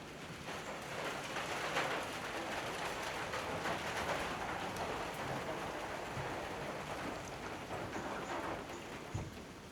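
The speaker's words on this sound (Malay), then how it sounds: "Hujan pula kawan-kawan." Steady rain patters continuously at a moderate distance, a soft even hiss with occasional louder drops.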